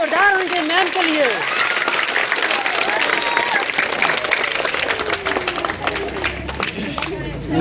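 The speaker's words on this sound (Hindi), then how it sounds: "ताली बजाओ, ताली जोरदार होनी चाहिए मैम के लिए" Schoolchildren at a primary school programme clap loudly for their teacher in a sustained burst of close, dense applause, while children's voices shout and chatter over it.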